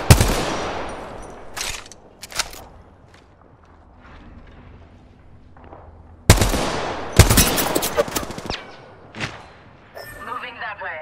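Gunfire in an online battle-royale style video game, with loud, close bursts of automatic shots and single cracks spread across the stretch, separated by quieter gaps with footsteps and distant shooting, while voices talk over it.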